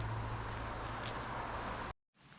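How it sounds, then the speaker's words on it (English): Steady rain patters on a tent's rain fly at a bikecamping site near Idaho City, Idaho, a constant close hiss with a low hum, cut off briefly before resuming. "it's been raining for about an hour and a half"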